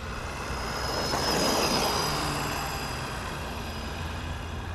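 An Arrma Granite Mega RC car runs at full throttle, a high steady motor whine that swells to a peak and then eases off slightly, with no talking.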